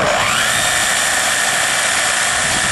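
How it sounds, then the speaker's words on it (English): A power tool spinning up to a steady high-pitched whine while sanding an agave stalk being made into a didgeridoo, loud and close throughout. "I'll sand it down with this."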